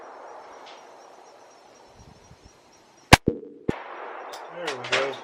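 Two or three sharp, loud pistol reports from a Diamondback DB9 ring out in quick succession at an outdoor range, followed by a metallic clang and a brief voice.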